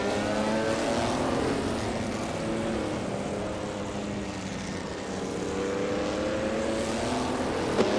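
Racing cars in a video game, including a 1961 Ferrari 156 F1, drone past with rising and falling engine whines. Several overlapping engine tones sweep in pitch as cars close in and pull away, steady and fairly loud throughout.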